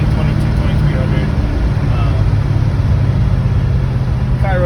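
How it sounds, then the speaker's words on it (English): A Pontiac GTO hardtop with Tri-Power and a 4-speed cruising at 55 mph around 2300 rpm, a loud, steady low engine drone and road rumble filling the cabin, with a voice talking over it. "Car runs down the road real nice"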